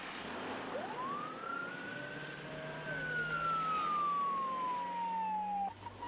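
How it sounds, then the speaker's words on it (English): A single ambulance siren wail rises and then slowly falls in pitch, sounding from a distance over low traffic rumble. "Volunteer paramedic Glenn Colsheen followed the ambulance toward the scene"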